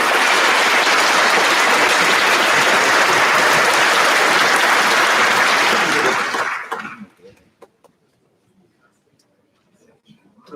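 Graduation audience at a university chemical engineering ceremony gives loud, dense sustained applause for about six seconds, then it breaks off abruptly into near silence with a few scattered late claps.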